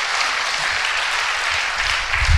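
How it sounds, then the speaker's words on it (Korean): A seminar audience applauding at a real estate investment event, a brief burst of many hands clapping in a dense, even wash for a couple of seconds, close and fairly loud. "운영진한테도 한번 힘찬 박수 부탁드리겠습니다"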